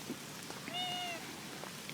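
A cat meows once, a short rising-falling call outdoors in a yard with grass, bushes and trees, heard clearly against faint background hiss.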